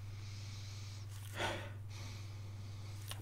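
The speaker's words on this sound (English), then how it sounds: "they are going to undergo the sniff test" A sharp nasal sniff close to the mic, held against the smell of a leather coin wallet, standing out as one burst of breath over a steady low hum.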